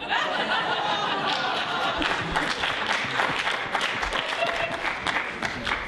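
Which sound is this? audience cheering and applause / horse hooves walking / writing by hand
audience cheering and applause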